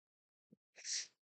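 A single human sneeze: a short quiet intake, then a sharp, hissy burst that fades within half a second, close to the microphone in an otherwise quiet room.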